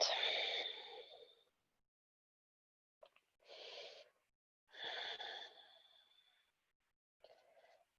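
Slow, deep breaths during a Hatha yoga session, a long airy exhale at the start followed by several softer breaths separated by near silence, close and quiet.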